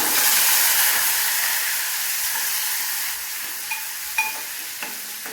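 Tomatoes dropped into hot oil with curry leaves in a home kitchen pan give a steady, close sizzling hiss that slowly eases, with a few small pops and clinks toward the end.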